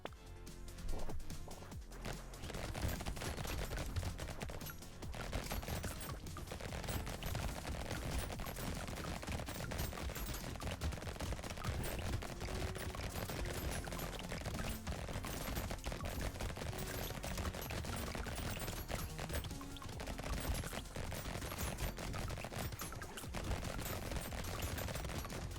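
Rapid continuous SMG gunfire in the video game Brotato, a dense, fast rattle of shots sustained throughout at a steady loudness, with no talk.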